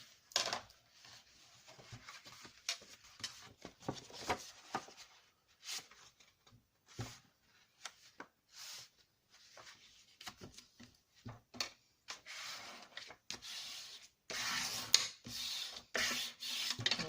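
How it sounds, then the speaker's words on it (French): Paper folds being creased by hand while making an album: quiet, intermittent rubbing and scraping strokes in irregular bursts with short pauses between, growing busier toward the end. "Alors, on va déjà marquer nos plis."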